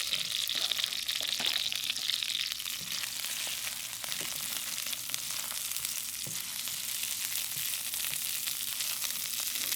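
Ginger and onion sizzle with browned chicken in a pan for a Chinese eggplant stir fry, a steady loud frying hiss with occasional crackles and stirring scrapes throughout, no voices.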